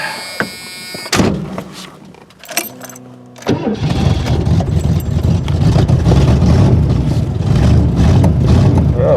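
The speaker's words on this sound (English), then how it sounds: "Let's see if this thing will fire back up and stay running, or maybe I'm out of gas." A Ford Granada's engine cranks a few times with brief bursts, then catches at about 3.5 seconds and settles into a steady, loud, close-up idle that rumbles on to the end.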